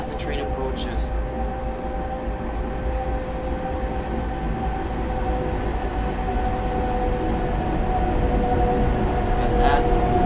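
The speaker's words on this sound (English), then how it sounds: "You can even hear the rails as the train approaches." Rail rumble from a train drawing near in Train Simulator Classic on the Cataluña Exprés route in Spain, a steady low track noise that grows slightly louder, with a faint high whine and brief clicks near the start and end.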